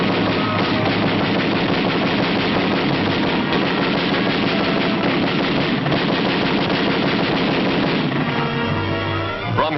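Dense, continuous gunfire in jungle combat, with rapid machine-gun bursts and rattling shots layered loudly and almost without pause, easing slightly near the end.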